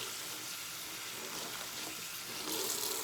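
A Cricut cutting mat rinsed under a running tap, a steady soft hiss of water spraying and splashing over the plastic mat, close and continuous.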